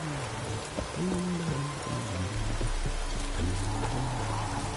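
Steady rain falls in the Witcher 3 video game, a soft, even patter and hiss that continues without a break under a faint low ambience.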